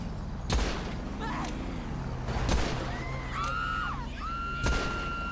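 Sharp gunshots from a video game street scene, a handful of loud isolated bangs spaced a second or two apart over a steady background rumble and passing car sounds.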